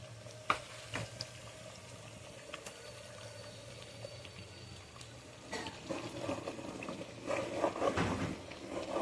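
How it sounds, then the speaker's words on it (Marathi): Garlic-ginger paste frying in a pan for Patwadi bhaji gives a quiet, soft sizzle with scattered crackles and a couple of sharp clinks. It grows busier and louder toward the end, with no talking. "तर इथे लसूण अद्रकचा पेस्ट टाकत आहे"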